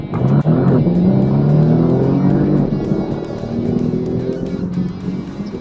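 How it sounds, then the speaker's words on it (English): A Porsche under hard acceleration in sport plus mode on a country road, its engine note loud and rising steadily with clear harmonic climbs, heard close from inside the cabin with no talking. "launch the car and show you just how fast it goes from 0 to 60"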